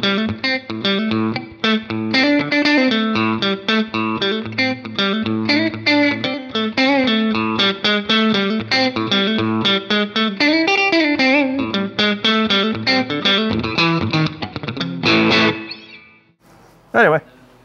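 Electric guitar with noiseless single-coil pickups in the in-between pickup position, giving a quacky tone through chorus and mild distortion; a long stretch of picked chords and notes, loud and steady, fading near the end where a voice briefly comes in.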